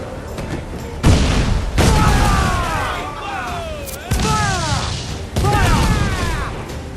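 Cannon broadsides boom repeatedly during a naval battle in Assassin's Creed IV: Black Flag, with loud thuds recurring every second or so over rushing water and wind. Crew voices shout throughout.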